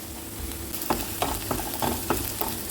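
Onions frying with ginger-garlic paste in a pan for pav bhaji, a steady close sizzle with a series of stirring scrapes and clacks roughly every half second, no voices.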